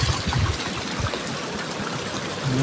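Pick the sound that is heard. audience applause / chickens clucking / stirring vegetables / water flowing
water flowing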